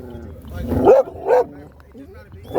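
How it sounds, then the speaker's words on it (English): Dogs bark in a few short bursts close by, mixed with loud human voices that talk over them. "I can't hear when my dogs are barking"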